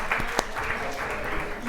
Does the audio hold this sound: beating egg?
no